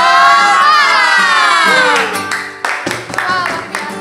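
Children at a Sunday school service doing the tepuk semangat clapping chant, a shouted chorus of young voices with sharp rhythmic claps and cheering close by, loud and lively.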